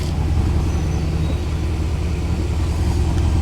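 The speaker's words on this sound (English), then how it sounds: "Now let's take a look at the back and also listen to this engine." A 2026 Ford F-250 Lariat's 7.3-liter V8 idles with a steady, dense low rumble, loud and close, holding evenly with no talk over it.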